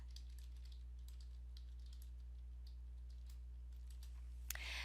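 Light typing on a computer keyboard, quick scattered key clicks over a steady low hum, faint and close, with one louder tap near the end.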